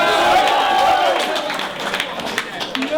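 Crowd at a rap battle event roars and cheers loudly and continuously, with shouting voices and a sustained whoop mixed into the noise from start to finish.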